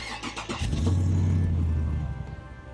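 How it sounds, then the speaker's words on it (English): A 1985 Chevrolet C10 truck with air ride comes to life, a brief cranking burst giving way to a steady low engine idle nearby, the rumble easing slightly toward the end. "I definitely like to have the vehicle running."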